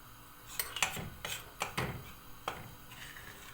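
Flour dry-roasted with a pinch of salt in a pan for walnut sini kete, a spoon or spatula scraping and knocking against the metal in several distinct strokes, close and moderately quiet with no talk.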